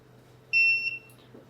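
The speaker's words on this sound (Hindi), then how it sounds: "ग्राउंड से बीप दे जाएगा एक सिरा" A multimeter gives a short, clear electronic continuity beep while a capacitor's ground is probed on a mobile phone circuit board, one tone lasting about half a second over a faint, steady hum.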